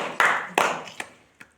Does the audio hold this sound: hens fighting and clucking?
no